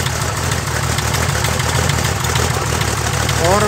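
A rebuilt 300 Ford six-cylinder engine idles in a 1961 narrow-gauge Bombardier, giving a steady, loud, close rumble with a dense mechanical clatter and no break throughout.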